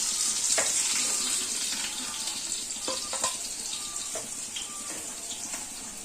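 Fish frying in hot oil in a home kitchen gives a steady bright sizzle, with sharp spits and pops of splattering oil scattered on top. It sounds near and fades slightly toward the end, with no voices.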